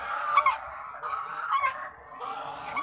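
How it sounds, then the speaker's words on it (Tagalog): Geese honking close by, a run of nasal, overlapping calls from a small flock, fairly loud with no talking over them. "Ayan, magagandang gansa."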